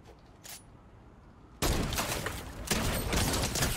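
Gunshots ring out in an online solo battle video game, a sudden loud burst of rapid gunfire after a quieter start, continuing in dense crackling shots to the end.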